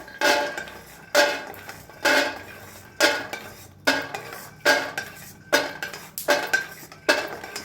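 Roasted peanuts being scraped out of an iron kadai onto a plate, heard as about nine sharp metallic scrapes and clanks in an even rhythm, close and fairly loud, with no speech.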